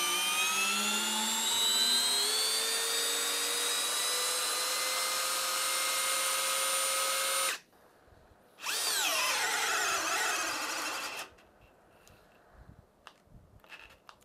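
A Bosch GSR 12V-35 FC cordless 12-volt drill backs out long 8 mm screws, its motor whining steadily with a rising pitch, stopping, then a second high-speed burst before cutting off, loud and close.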